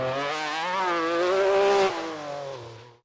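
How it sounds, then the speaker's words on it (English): Metro 6R4 rally car with a high-revving, normally aspirated V6 engine revs loud and close, its pitch climbing steadily before the throttle lifts and the note falls away. "the Metro relied on immediate throttle response from its high-revving, normally aspirated V6 engine"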